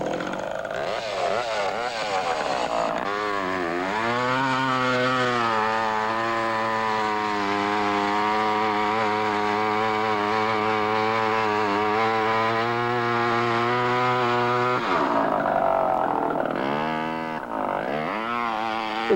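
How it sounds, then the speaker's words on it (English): A woodcarver's chainsaw cuts the angles of a rough wooden chair. The loud, steady buzzing whine holds for about twelve seconds, with revving as the saw bites in at the start and when it eases off near the end. "And then I take the chainsaw and cut the angles."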